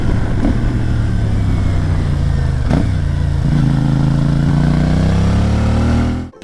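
Steady exhaust note of a CFMoto 450MT two-cylinder adventure motorcycle, a close, continuous low rumble that lifts slightly in pitch partway through, then cuts off abruptly at the end.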